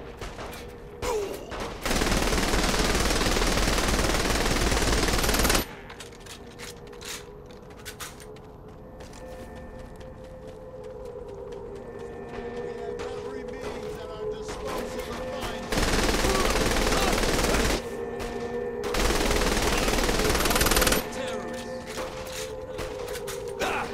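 Gunfire rings out during a charge up a hill in Saints Row: The Third Remastered, with long sustained bursts of loud automatic fire separated by quieter stretches of game ambience and a droning tone.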